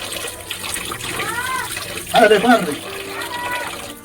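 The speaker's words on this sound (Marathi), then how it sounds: "पानी चालू है नल को." Water runs steadily from a tap, splashing and trickling nearby, with a voice speaking briefly over the flow.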